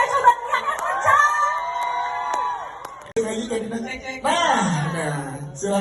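A crowd at a film promotion event for Shaka Oh Shaka cheers and shouts loudly, voices swelling in waves of whoops and yells, with talking mixed in.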